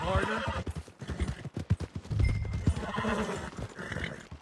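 A horse in the Wild West 1899 video game neighs with a long harmonic whinny while hooves clip-clop steadily beneath it, close and fairly loud with no talk.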